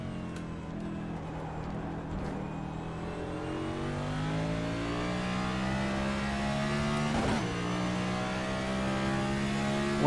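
A race car on a long straight in the iRacing simulator at Autódromo Hermanos Rodríguez, its engine droning steadily and climbing slowly in pitch through the gears, loud and sustained, with no speech.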